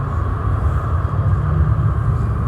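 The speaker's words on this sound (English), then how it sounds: "Sorry for the noise, I think Ryanair's just landed." A Ryanair airplane landing at Manchester Airport, heard as a steady low rumbling roar with a constant hum, distant and unbroken.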